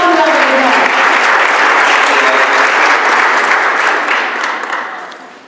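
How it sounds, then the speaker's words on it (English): Sustained audience applause fills a community meeting hall about a US 41 construction project, steady and dense, then fades out toward the end with a tonal voice briefly audible at the start. "Give him a round of applause."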